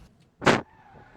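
A car pulls in, heard as one brief loud whoosh of engine and tyres that swells and fades within about a quarter second, with faint hum around it.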